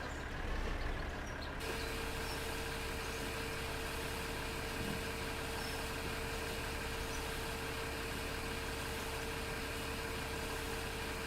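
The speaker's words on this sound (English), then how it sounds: "I guess this tractor doesn't pull this trailer too bad" Tractor engine in Farming Simulator 2015 hauling a grain trailer through a harvest, a steady loud drone with a constant mid-pitched hum running unbroken throughout, no talking.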